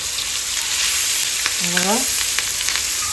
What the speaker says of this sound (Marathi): गाबोली ती डायरेक्ट यांना लागलेली आहे बागड्यांना गाबोली त्याच्यामुळं खूप आवाज येते